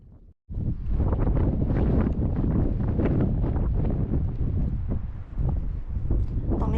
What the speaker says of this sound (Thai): สภาพอากาศไม่ค่อยดีนะ ลมแรงแล้วก็ ท้องฟ้าไม่ค่อยปลอดโปร่ง